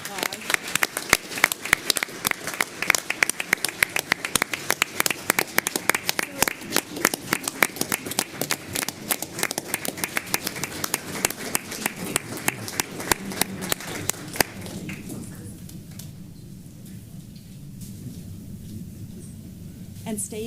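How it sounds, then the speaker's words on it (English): Applause from an audience at a Spanish Fork city council meeting, dense rapid clapping filling the room for about fourteen seconds before cutting off abruptly into quiet room tone. "Can we all give Becky a big round of applause?"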